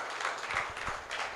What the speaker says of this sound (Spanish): Dale un aplauso al Señor si lo puedes creer.